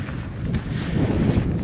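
Steady, cold winter wind in the Peak District rushing and buffeting a microphone, a low continuous roar with gusty swells and no voices.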